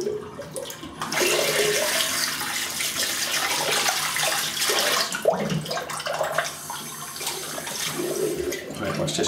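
Hot water runs steadily from a bathroom tap to warm a slant razor blade. The rush starts abruptly and pours on close for several seconds, with faint splashes and clinks under it and no talking.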